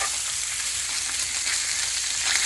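A pound of ground pork browns in a pan, giving a loud, steady, continuous sizzle and crackle with no talking over it.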